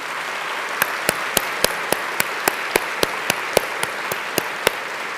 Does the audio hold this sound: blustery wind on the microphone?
no